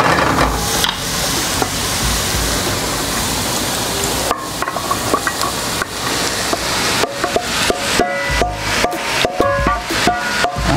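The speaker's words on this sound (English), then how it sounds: "the next step, of course, will be to add the minced meat" Minced meat sizzles and crackles as it fries in plenty of fat for a lasagna, a dense, steady hiss with sharp clatters and scraping knocks of a spoon in the pan toward the end.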